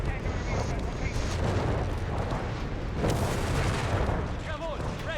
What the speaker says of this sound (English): Firing incendiary on the location.